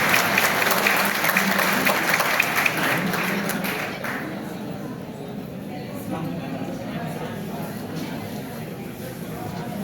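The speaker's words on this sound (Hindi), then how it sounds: "तालियां कुछ कम बजी हैं" Student audience at a college stage performance applauding, a moderate burst of clapping that tapers off after a few seconds and leaves quieter room sound with a voice talking.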